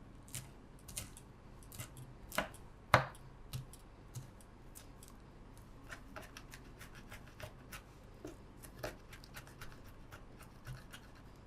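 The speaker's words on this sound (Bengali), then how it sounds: "এখানে 7টা কাঁচামরিচ কেটে নিব।" Seven green chillies being chopped for a spicy bhorta, a steady run of sharp knife taps on a board at irregular pace, close and fairly quiet, with no talking.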